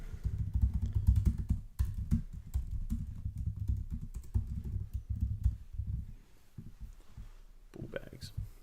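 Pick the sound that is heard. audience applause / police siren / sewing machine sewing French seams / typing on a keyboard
typing on a keyboard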